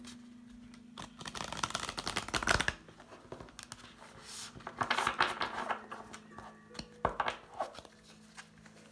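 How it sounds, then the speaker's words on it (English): Tarot cards riffle and slap together in several bursts of crisp shuffling, close and fairly quiet, with brief pauses between rounds. "So I'm going to go ahead and shuffle the cards"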